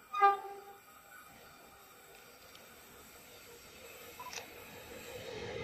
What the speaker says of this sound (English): We have a northbound service passing through.